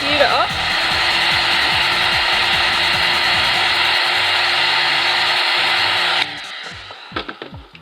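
A heat gun blows steadily on a sheet of Worbla thermoplastic, a loud, even hiss-roar that holds for about six seconds before cutting off, leaving light handling noises.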